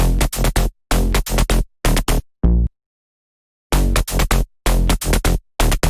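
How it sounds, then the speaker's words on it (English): Short, punchy synth bass stabs in rhythmic bursts with a brief gap, loud and dry, playing alone. "Now for the stabbier bass, on the other hand,"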